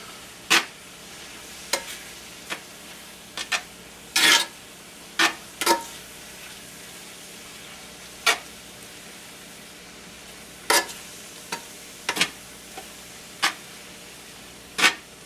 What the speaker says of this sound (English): Then we're just going to stir this in gently.